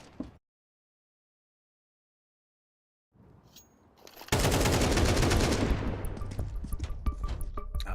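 Gunfire in Counter-Strike on the Vertigo map during a BLAST Fall Showdown 2024 match. A near-silent stretch gives way to low rumbling, then a loud sustained burst of rapid shots continues with scattered cracks to the end.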